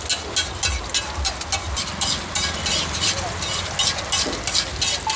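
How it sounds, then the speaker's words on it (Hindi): Eggs sizzle loudly on a hot griddle at a street food stall in Surat, India, while a metal spatula scrapes and taps in quick, repeated strokes close by. "अभी आगे दो अंडे का फ्राई जाएगा, दो अंडे का फ्राई टमाटर वाला"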